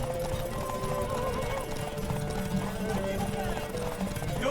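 Galloping horse hooves in The Witcher 3 during Ciri's horse race, a rapid steady clip-clop rhythm close by with a whinny mixed in, carried along under a bed of game sound.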